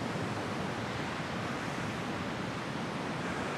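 Steady broadband roar of beach surf mixed with cool wind at Da Nang, Vietnam, a constant wash of waves with no distinct breaks, moderately loud and unbroken throughout.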